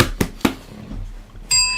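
A bell is struck twice in close succession, each a sharp bright ding that decays quickly, followed by a sustained ringing tone near the end.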